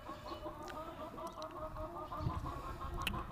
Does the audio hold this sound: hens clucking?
yes